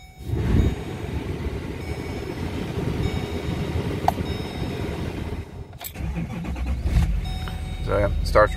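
A one-owner 2011 Chevrolet Silverado 2500HD 4WD with a 6.6L Duramax diesel and about 200K miles starts up, its steady diesel rumble shifting into a rougher idle near the end, with people talking nearby.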